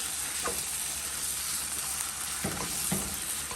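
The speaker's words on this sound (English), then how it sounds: "I'm going to go in with a metal spoon and try to mix this in" A metal spoon stirs black eye paste into melted sugar in a pot over a continuous hiss of sizzling, with a few soft scraping strokes against the pan.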